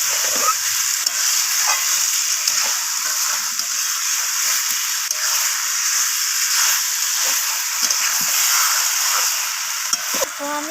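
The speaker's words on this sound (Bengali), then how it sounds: "একদম পেঁয়াজ আর টমেটোর সাথে কষাতে থাকবো।" Chicken sautéing with onion and tomato in a pan, a loud, steady close sizzle and frying hiss throughout, with faint scraping stirs now and then.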